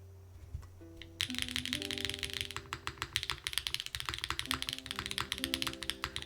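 Typing on a Moonlight by Malvix mechanical keyboard with a heavy copper bottom, rapid close clacky keystrokes starting after a second and continuing in a dense irregular stream over a low background hum and faint tones.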